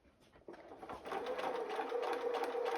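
A sewing machine stitching quilt fabric while piecing curves, with a brief uneven start and then a steady, close whirring hum of fast needle strokes for the rest of the clip.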